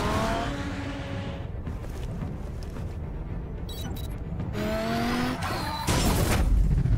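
A car in Batman: The Telltale Series skids with squealing tires and then crashes, loud and close, the screech sliding in pitch before a rough impact and crunching noise near the end.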